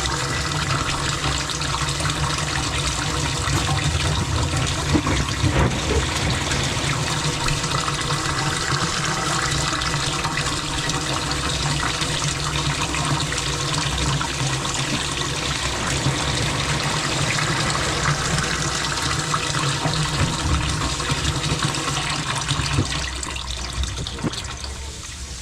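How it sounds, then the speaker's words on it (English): Water pours steadily into a boat's bilge during a bilge pump installation, a close, continuous gushing rush that holds at an even level for the whole stretch before easing slightly at the very end. "we can now fill the bilge up with water and see if it actually pumps it out"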